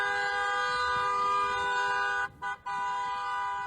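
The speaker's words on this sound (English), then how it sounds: "the honking of the horn is something that is done by a lot of bystanders" Car horns blare in a city street, one long continuous honk broken by two short gaps near the end, loud and close.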